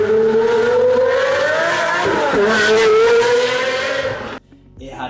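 Pagani Zonda F with a Mercedes V12 and equal-length headers, revving hard in a loud, sustained high-pitched wail with a brief dip mid-rev, cutting off sharply near the end to quiet background.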